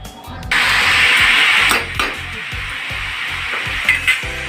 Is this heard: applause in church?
no